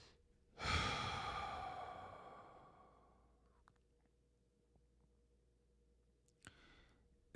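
A single deep breath drawn in and slowly let out, close and soft, fading away over several seconds in an otherwise quiet space.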